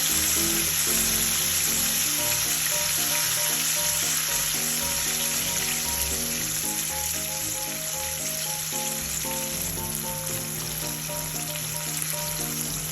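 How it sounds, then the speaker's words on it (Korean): Fried eel pieces go back into hotter oil for a second deep-fry, a loud, continuous crackling sizzle with a steady hiss and no voices. "튀긴 장어를 넣고 한 번 더 튀겨주세요."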